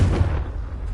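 A Confringo spell explosion in Hogwarts Legacy hits as a loud, deep blast at the start and then fades into a rumbling low tail over about a second.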